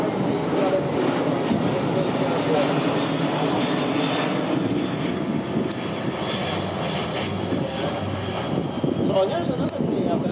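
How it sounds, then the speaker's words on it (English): A Boeing C-17 military transport jet flies at the Bremerton Airshow, its engines giving a steady, broad rumbling roar that persists across the whole stretch, with a person talking over it. "her dad is up there flying the pants off of the C-17"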